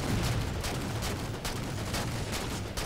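Halo 4 multiplayer gunfire, a steady run of quick, fairly faint shots in a continuous volley amid busy game noise.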